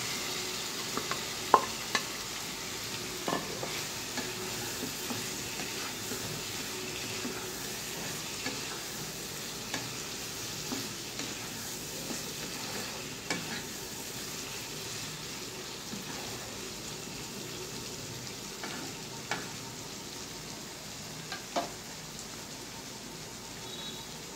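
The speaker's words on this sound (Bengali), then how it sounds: "এখন আমি এর উপর সবজিগুলো দিয়ে দিব।" Vegetables stirred into a pan of frying masala while cooking a fholi fish dish, giving a steady, fairly quiet sizzle with scattered scraping and stirring taps throughout, no talking.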